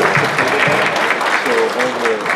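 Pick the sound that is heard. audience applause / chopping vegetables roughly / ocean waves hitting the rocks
audience applause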